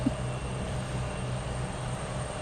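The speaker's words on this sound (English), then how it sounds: "Watching all these planes take off to Florida" Planes taking off at Logan Airport, heard as a steady, distant low engine rumble that holds at a constant level, with no voices over it.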